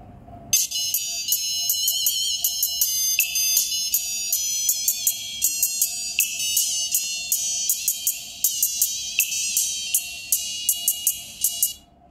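Pure P8802 treble speaker with crossover playing high-pitched test music, bright rhythmic tones with regular sharp accents, steady and fairly loud with no talking.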